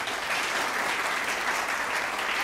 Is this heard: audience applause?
yes